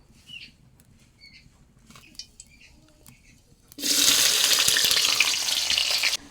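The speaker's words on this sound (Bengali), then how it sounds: "এখন কড়াইতে তেল দিয়ে দিমু, আর সব ধরনের মশলা কষায় নিমু" Spices hit hot oil in a wok on a wood-fired clay stove and burst into a loud, sudden sizzle after several seconds of quiet clicks and small handling sounds.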